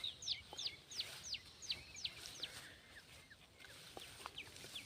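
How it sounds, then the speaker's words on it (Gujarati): Faint, repeated bird calls near a full reservoir in a forest setting, a series of rapid rising chirps and whistles against a quiet background, with no talking. "સુંદર પક્ષીઓ કલરવ કરે છે."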